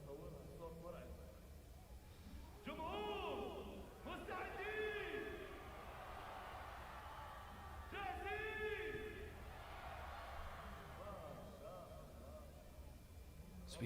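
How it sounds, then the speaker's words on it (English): A crowd roars and whoops at the Oman International Drift Championship, with loud bursts of shouting rising over a steady din of engines and background noise, peaking twice for a second or two each time. "So we hear roars from the crowd."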